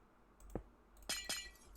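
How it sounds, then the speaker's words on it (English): Glass blocks being placed in Minecraft, giving one short dull knock followed by two crisp glassy clicks, each brief and close, with quiet background between them. "when you place tinted glass, it makes the same sound as stone"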